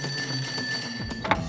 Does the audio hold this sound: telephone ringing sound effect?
yes